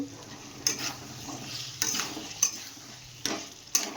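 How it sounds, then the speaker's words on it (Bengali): Potatoes fried together with spice paste in a pan, a continuous close sizzle broken by several scraping strokes of a spatula, with a faint metallic clink on each stir. "আলুটাও ভাজা হবে মশলাটাও ভাজা হবে"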